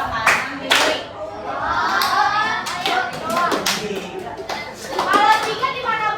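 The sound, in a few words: hand clapping rhythm pattern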